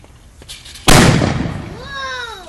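A Fourth of July firework explodes in a city street with a single loud, sharp bang and a decaying rumble. A car alarm then starts wailing with rising tones, and people talk nearby.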